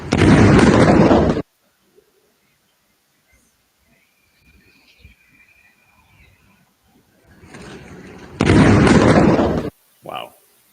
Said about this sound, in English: that was a missile hitting an apartment building in Beersheba